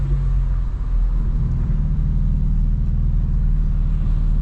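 A 900 HP straight-piped BMW M4 Competition cruises along with a loud, steady, close exhaust rumble and low throbbing engine drone, no voices over it.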